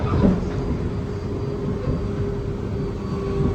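A Sydney Trains service rolls steadily into a station platform with a constant low rumble and hum, close and fairly loud, with no talk.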